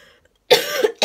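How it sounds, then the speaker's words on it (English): A single sharp cough bursts out after a moment of quiet, followed a beat later by the start of a second cough, close and loud. "I feel a cough coming on."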